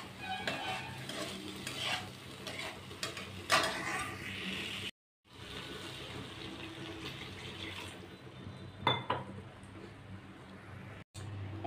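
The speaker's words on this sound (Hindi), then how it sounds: "मसाले के साथ और दही के साथ भिंडी अच्छी तरह से मैंने 4-5 मिनट तक मिक्स कर लिए है" Okra stirred in a pan with yogurt and spices, giving soft scraping stirs and a faint sizzle, with a couple of brief clanks and pauses, quiet overall.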